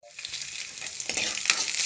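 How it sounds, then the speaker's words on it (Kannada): Green chillies and curry leaves frying in hot oil for a tempering, a steady close sizzle with crackling pops and stirring throughout, no talk. "ಮೆಣಸಿನ್ಕಾಯಿ ಕರಿಬೇವಿನ ಸೊಪ್ಪೆಲ್ಲ ಒಗ್ಗರಣೆಗೆ ಫ್ರೈಗೆ ಹಾಕೋಣ."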